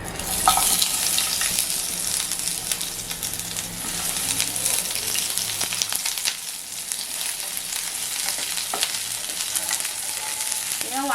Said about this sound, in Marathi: आता मी ना ह्याच्यात थोडस हलकं तेल टाकते नंतर मग कांदा टाकते